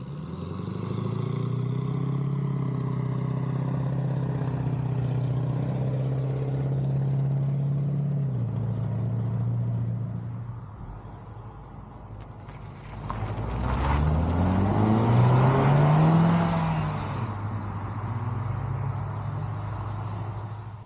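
A Peugeot RCZ 200 THP petrol coupe on the move, its engine a steady drone that rises in pitch as it accelerates, fades briefly, then swells again with a fresh surge of revs.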